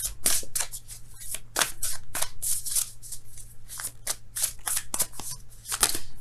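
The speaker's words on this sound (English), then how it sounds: "Can I grip the cards? I want to bend them." Tarot cards shuffled by hand in a steady run of crisp riffling bursts, close and fairly loud, with no talking.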